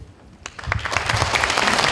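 An audience at a National Assembly member's legislative report meeting breaks into applause. The clapping starts thin, then quickly swells into full, steady, close applause that lasts to the end.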